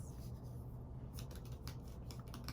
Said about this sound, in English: let me start typing again